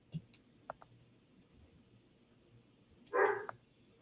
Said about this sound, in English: I hear the dog go